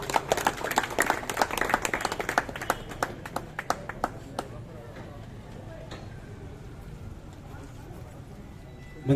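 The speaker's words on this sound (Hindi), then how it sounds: "जोरदार तालियों से इस्तकबाल करें।" Applause welcoming guests at a felicitation program, a burst of uneven, fairly sparse clapping from a small crowd that thins into scattered claps and fades within about four seconds, leaving a quiet room.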